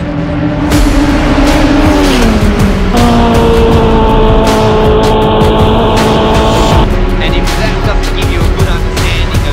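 A time attack race car at WTAC 2023 screams at high rpm, its engine note loud and sustained with pitch shifts as it revs and gears change, no pauses.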